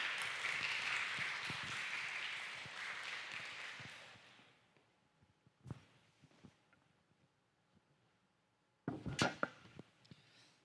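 Church audience applause welcomes a pastor arriving to give a lecture, a dense clapping burst for about four seconds that fades out, then scattered knocks and shuffling, with a few more claps near the end.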